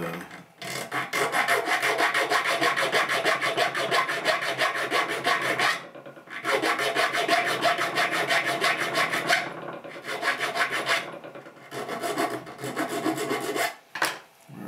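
A metal file rasps rhythmically across a guitar fret ridge held in a vise, in long sustained runs of rapid back-and-forth strokes with brief pauses between, close and fairly loud.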